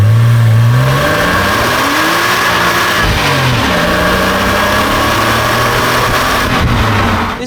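Porsche 986 Boxster S flat-six blips and revs loudly nearby, pitch rising and falling in a few quick swells over a steady running engine, with no voices.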